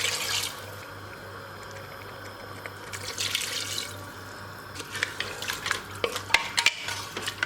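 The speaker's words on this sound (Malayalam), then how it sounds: "ഇതിലേക്ക് കറക്റ്റ് 2 കപ്പ് വെള്ളം ഒഴിച്ചു കൊടുക്കാം." Two cups of water are poured over beef in a pressure cooker for beef mandi, making a splashing, gurgling stream with a brief pause midway, then stirring clatter and light sizzling toward the end.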